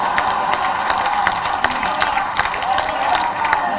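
Audience at an Independence Day Hindi poetry gathering (kavi sammelan) claps steadily in a dense, even wash of applause, close and sustained, with no speech over it.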